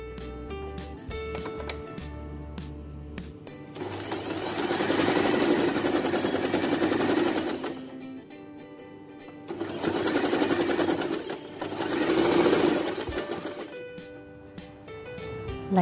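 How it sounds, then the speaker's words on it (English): A sewing machine runs a regular stitch along folded fabric for a baby bow headband, close and loud, with a few clicks first and then two long whirring runs separated by a brief pause. "fold the fabric in half and sew here using regular stitch"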